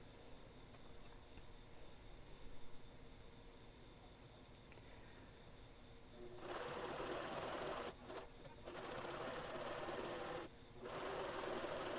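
A sewing machine runs a seam attaching a fabric handle to the top piece of a cover, stitching forward, backward and forward again with brief stops between steady close-up runs.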